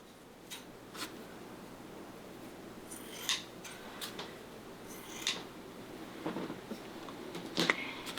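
Scissors snip through craft material in a quiet room, several short crisp cuts spaced irregularly, close and fairly faint, with no talk.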